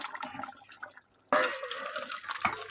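Cooked potatoes are tipped into a dish: a sudden wet, sloshing rush of pouring comes in after a brief quiet moment, close and fairly loud.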